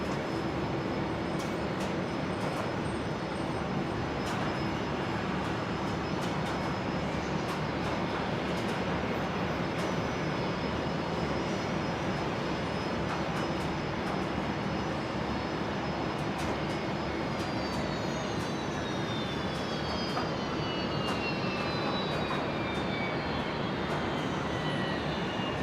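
An airliner departs Brisbane Airport without using the full runway length, its engines a broad steady roar heard from a distance for the whole stretch, with a thin whine sliding downward near the end.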